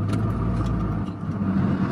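Inside a moving car, a steady low engine and road rumble fills the cabin, continuous and fairly loud with no talk.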